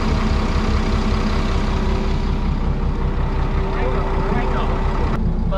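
The Sea Harvester's boat engine idles during a sea trial, giving a loud, steady low rumble with a constant droning hum, while voices talk over it partway through.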